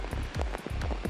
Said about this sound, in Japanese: 大粒の雨が地面に打ち付けています。